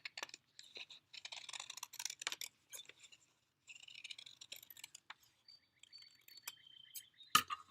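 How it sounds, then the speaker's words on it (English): Scissors cutting paper along a line, heard as a close, quiet run of crisp snips and clicks in irregular bursts with short pauses between cuts. "I'm going to take my scissors and cut along the line."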